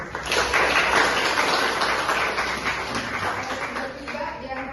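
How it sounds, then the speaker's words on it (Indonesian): Steady audience applause in a university teaching session, a dense wash of many hands clapping from start to finish at moderate loudness, with no talk over it. "Tepuk tangan dulu."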